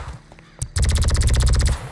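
Automatic weapon fire in first-person view in GTA V: after a few faint clicks and one sharp shot, a loud, rapid burst of evenly spaced rounds runs steadily for over a second and then stops.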